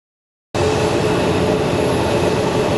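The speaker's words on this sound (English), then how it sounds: "we have a little Embraer coming in" An Embraer jet airplane arriving at Phoenix Sky Harbor airport, its engine roar bursting in abruptly and holding loud and steady, a broad continuous rumble with a high whine on top.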